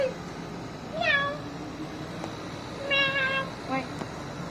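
A cat meows outdoors at night in Manila, two clear rising-falling meows a couple of seconds apart, moderately close, with faint background noise.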